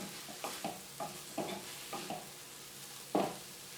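Chopped green beans and broccoli seasoned with garlic salt heat in a pan, giving a soft sizzle broken by several light scraping stirs and one louder clatter near the end, with no voices.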